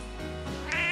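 A house cat meows once up close, a drawn-out indoor call that rises in pitch toward the end, with no talking over it.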